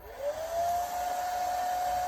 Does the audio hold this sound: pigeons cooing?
no